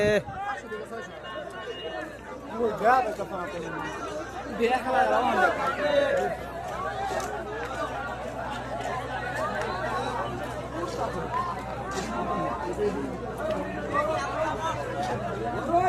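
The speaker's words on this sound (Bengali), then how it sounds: "অসম্ভব ভিড়।" Dense crowd chattering on a packed train station platform as passengers pour off a crowded train after the Eid holiday, a continuous loud babble of many overlapping voices with occasional louder shouts.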